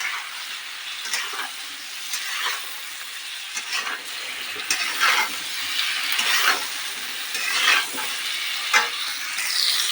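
Cauliflower sizzles steadily in oil in a pan while a utensil scrapes and stirs in repeated strokes, close and fairly loud, with no voices.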